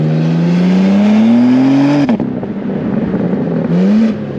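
BMW M2 with a 3-litre twin-turbo six-cylinder engine revving hard while drifting, a loud rising engine note that climbs, breaks off sharply, then surges again close by.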